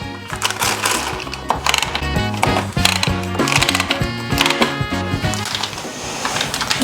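A ratchet on a rigid heddle loom clicks repeatedly as the warp tension is cranked tighter, close and loud, with wooden mechanical knocks in a quick uneven rhythm.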